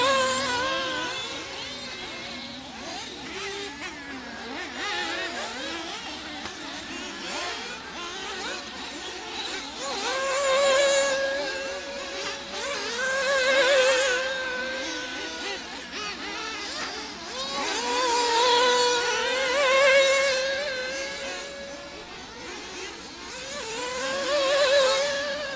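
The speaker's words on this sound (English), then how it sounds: "I hear revving behind me" Several small nitro RC buggy engines buzz and rev at a distance at a race, their pitch rising and falling in repeated waves of acceleration over a steady drone.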